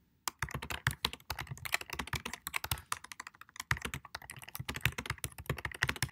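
Rapid, steady typing on a computer keyboard, close and clear, with uneven bursts of keystrokes and brief pauses, no voices.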